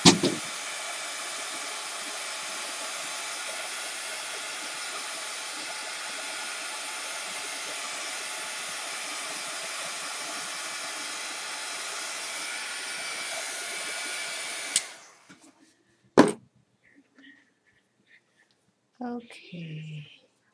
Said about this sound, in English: Just gonna hit that with the dryer real quick so that I can put a second coat on it.